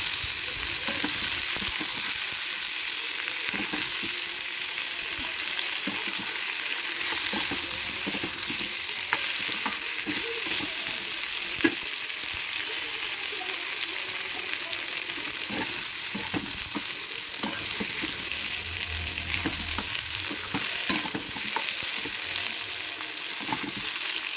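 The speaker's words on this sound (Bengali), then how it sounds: "পেঁয়াজ কুচি দিয়ে ভালো করে মিশিয়ে নিয়ে পেঁয়াজগুলোকে একটু লাল লাল করে" Steady, close sizzling of chopped onions frying in a pan, with occasional scraping stirs, continuing without pause and no voices.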